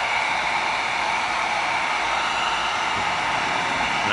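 A hot air tool blows steadily to heat seal the surface of EVA foam pieces, a loud, continuous airy hiss that holds unchanged throughout with no talking.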